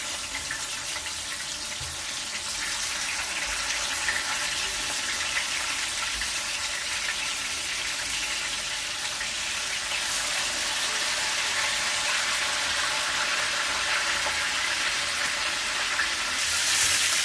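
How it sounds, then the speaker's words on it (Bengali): Spiced chicken pieces deep-frying in hot oil for a home-style roast: a steady, loud, hissing sizzle that holds even throughout, with no voices over it. "আমি যদি ডুবা তেলের মধ্যে মুরগিটা ভাজি তাহলে মুরগিটা সুন্দর করে পরিপাটি করে ভেজে চলে আসে"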